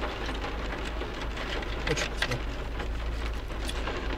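Light rain patters steadily outdoors, an even hiss of drops with scattered louder taps on a surface, no voices present.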